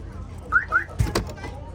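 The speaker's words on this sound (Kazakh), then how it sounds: "Пульт сигнализация иштейби? Полный. Сигнализация." A used 2011 Lada VAZ-2107 with a 1.6-litre engine sounds its car alarm: two quick rising electronic chirps followed by a couple of short, louder bursts, close by.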